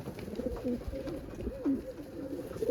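Budapest pigeons cooing inside a loft, soft repeated throaty coos rising and falling close by over steady low background noise, with no voices.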